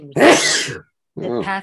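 One loud, close sneeze, then a short pause before someone starts talking.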